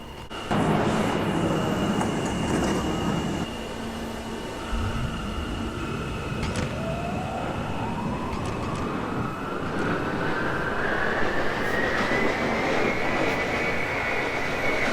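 NYC subway train on the B/D lines in a Roblox train simulator, a steady rumble with a rising whine as the train picks up speed, a faint chime near the start and a continuous electric hum.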